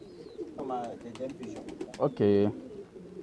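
Pedigree pigeons coo in soft, throaty, repeated calls close by, one rising into a louder drawn-out coo, while a person speaks briefly nearby.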